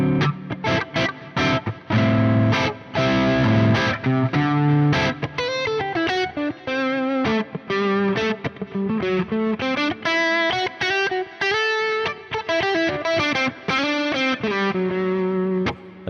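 Distorted electric guitar with effects improvising a fusion-style line in the Dorian mode, with fast runs of notes and a few sustained bends, played alone and fairly loud.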